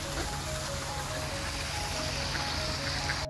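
A decorative fountain in a park with swans splashes continuously, a steady, even wash of falling water heard from a moderate distance with no pauses.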